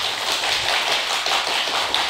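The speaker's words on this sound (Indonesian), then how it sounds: "Boleh tepuk tangannya dulu dong." An audience at a regional election event for regent candidates in Hulu Sungai Selatan claps: a dense, steady patter of hands that holds evenly through the short stretch, with no talking over it.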